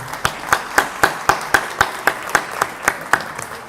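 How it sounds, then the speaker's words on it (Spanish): An audience at a memory, truth and justice human rights conference claps in unison, steady rhythmic beats about four per second, sharp and evenly spaced throughout. "Nobleza obliga. Aplausos,"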